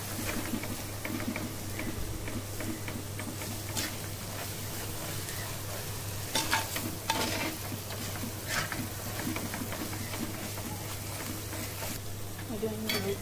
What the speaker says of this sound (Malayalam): ഇതും നല്ലൊന്ന് മിക്സ് ചെയ്ത്